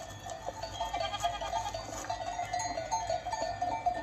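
Goats bleat repeatedly over a steady outdoor background in Sicily, their wavering calls overlapping at moderate distance with no talking.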